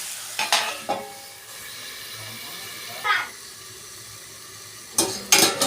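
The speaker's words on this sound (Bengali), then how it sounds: "এইভাবে ঢাকা দিয়ে এখন কিছুক্ষণ ভেজে নেব।" Chicken keema fries in a covered pan with a low, steady sizzle, broken by a few sharp clanks and scrapes of the lid and utensil, close by and without talk.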